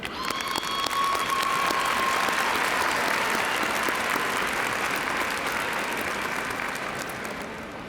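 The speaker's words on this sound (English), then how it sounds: "Let's clap it up for the parents real quick." An audience at the Cedar Shoals High School 2022 graduation ceremony applauds the parents, a steady wash of clapping from a large crowd that holds for about eight seconds before slowly tapering.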